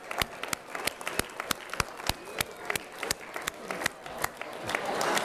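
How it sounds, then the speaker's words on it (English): Students applaud in an organic chemistry lecture room, a sparse run of distinct, evenly spaced claps that thickens slightly toward the end. "All right, give yourselves a big round of applause."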